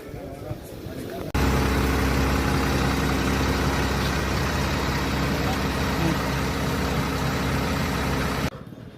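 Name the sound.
Volvo bus rear engine idling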